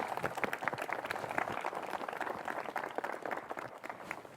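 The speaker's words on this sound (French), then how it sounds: "je pense qu'on peut vous féliciter et vous applaudir" Steady applause from a crowd at an outdoor 14 July ceremony, honouring the Philharmonie band; many hands clapping at moderate distance in a continuous, fairly soft patter.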